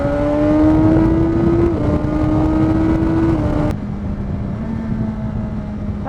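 A BMW S 1000 XR motorcycle engine drones loudly and steadily at speed, its pitch rising, stepping down at a gear change, then settling lower as the downshift blipper works, with strong wind noise.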